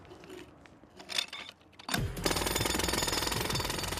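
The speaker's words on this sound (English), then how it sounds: "A jackhammer works by hammering a steel chisel into the ground over 25 times a second" After a few faint clanks, a jackhammer starts up and pounds away loudly and continuously, a rapid metallic hammering close by.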